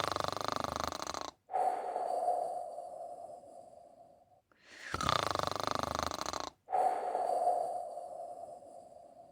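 A voice imitates a sleeping crocodile snoring in a children's story: three slow, soft, rasping breaths, each drawn out over a couple of seconds and separated by brief silent gaps.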